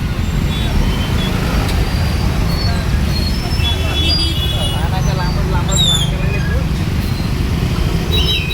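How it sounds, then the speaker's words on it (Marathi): Steady, dense road traffic rumbles on in a jam at a Dapoli stand circle during Ganesh festival, engines droning without pause, with faint high tones and muffled voices in the background. "आज फुल ट्रॅफिक आहे पाहू शकता तुम्ही"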